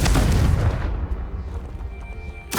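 A loud, booming Confringo fire-spell explosion in the Hogwarts Legacy video game, a heavy blast that rumbles and fades over a couple of seconds before a fresh burst begins.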